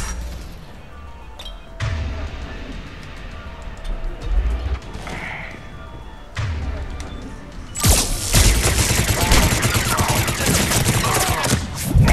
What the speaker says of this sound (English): wait, who's shooting?